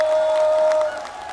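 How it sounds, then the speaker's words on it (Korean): Applause from an outdoor festival audience at the 52nd Yeongdong Nangye Gugak (traditional music) Festival and Korea Wine Festival, a brief burst of steady clapping with some crowd noise that thins out toward the end. "자, 여러분들 박수 주세요."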